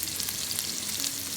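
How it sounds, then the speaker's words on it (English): Pork sizzles and fries in a pan, a steady, close hiss of crackling fat that runs without a break through the whole short moment. "Good sizzle, right?"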